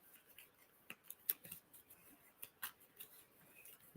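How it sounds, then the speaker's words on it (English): Playing cards from a deck-building card game are shuffled by hand, giving faint, irregular riffles and soft snaps in short bursts with brief quiet gaps between them. "So we're going to go ahead and shuffle them up."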